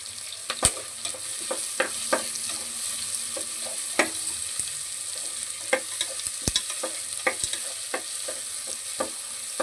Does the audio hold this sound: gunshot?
no